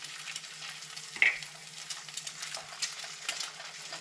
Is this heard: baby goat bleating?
no